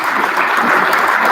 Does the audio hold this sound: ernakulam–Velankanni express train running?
no